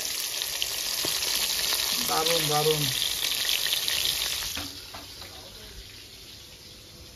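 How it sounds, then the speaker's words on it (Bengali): Loud, steady sizzling of hilsa fish frying in hot oil close up, with a brief voice speaking over it before the sizzle quiets down. "আর এদিকে তো মাছ ভাজা হচ্ছে, সাথে মাছ ভাজছে"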